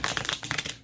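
Tarot cards being shuffled by hand, a rapid run of crisp papery riffles and flutters lasting under a second, close and fairly loud with no talk over it.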